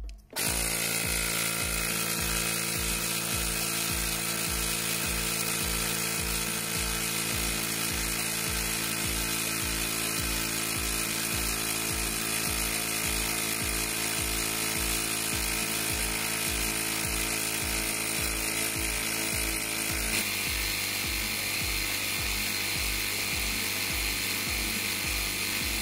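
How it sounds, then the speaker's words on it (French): An electric mini compressor inflates a bicycle tyre, giving off a steady, loud, close mechanical hum with fast regular pumping pulses for about twenty seconds before the tone shifts slightly as it nears the set pressure. "Nous voyons maintenant la solution avec le mini compresseur électrique."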